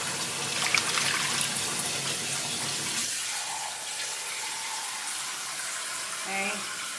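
Tap water runs into a pot for lobster stock, a steady broadband rush that fades to a thinner, quieter stream after about three seconds, with faint kitchen clinks near the end.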